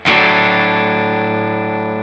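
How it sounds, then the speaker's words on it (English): Electric guitar played through a spring reverb effect in a guitar rig: a single strummed chord attacks sharply, then rings out with a sustained, slowly fading reverberant tail, alone with no voices. "Very nice model of a spring reverb."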